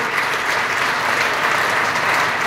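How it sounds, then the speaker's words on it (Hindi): Schoolchildren clapping at a health awareness program in a school, a dense, continuous burst of applause from a large group, steady and loud with no voices on top. "एक बार ताली बजवा ले"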